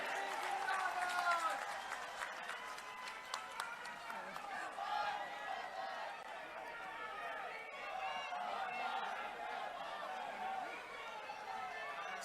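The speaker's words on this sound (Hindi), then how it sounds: "ताली बजती रहनी चाहिए" Audience applause and crowd noise at a political rally in Jagdalpur, a steady dense wash of clapping and chatter sustained throughout at moderate distance, with voices mixed in.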